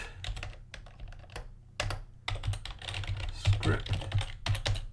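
Rapid typing on a computer keyboard, close and fairly quiet, clustered keystroke bursts with short pauses while entering code, with no talking.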